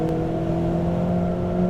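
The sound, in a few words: Ferrari 488 GTB engine accelerating under throttle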